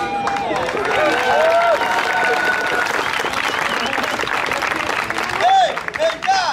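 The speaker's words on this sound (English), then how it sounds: "Give her a round of applause." A street acrobat show crowd in Central Park applauds a volunteer, dense clapping and some cheering filling the scene, while a performer keeps talking over it.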